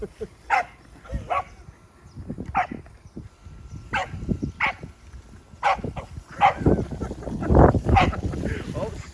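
A big dog barks at an RC car in scattered bursts, some single and some doubled, over outdoor background noise and occasional low talk.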